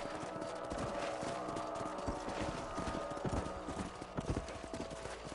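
Horse hoofbeats clip-clop steadily while riding on a ranch in the video game Red Dead Redemption, a continuous close trotting rhythm with faint background game sounds and no talk.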